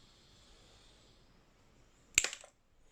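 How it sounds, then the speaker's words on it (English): Cutters snip the end off a small part for an OO gauge model railway dock layout, a single sharp close click with a short rattling tail after a quiet stretch of faint background hiss. "So I'm gonna snip the end off here and glue it to the track."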